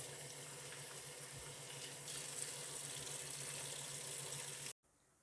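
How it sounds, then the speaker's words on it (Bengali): Taro is washed in cold water under a running tap, a steady close stream splashing into a sink until it cuts off abruptly near the end. "আমি কচুগুলোকে একটু ঠান্ডা জলে পরিষ্কার করে একবার ধুয়ে নেব।"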